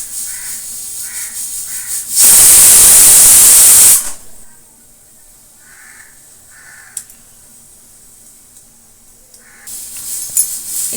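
Pressure cooker whistle while cooking Odia khichdi on a gas stove, one loud shrill steam whistle of about two seconds, followed by quieter kitchen sounds and a brief hiss near the end.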